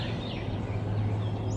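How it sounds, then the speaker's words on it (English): Birds waking up at sunrise call outside a window, faint and distant, with a gobbling, fowl-like quality over a constant low hum. "Listening to the birds waking up."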